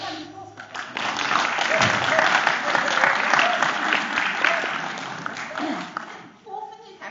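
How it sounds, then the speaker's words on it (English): A university lecture audience breaks into loud, sustained clapping after brief speech, swelling into a dense roar that tapers off near the end as a voice returns. "Can I get a round of applause for that?"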